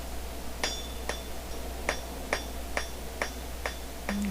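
Blacksmith hammering a steel bar on an anvil while forging decorative scrolls, nine sharp ringing strikes at a steady, roughly half-second rhythm over a low background hum.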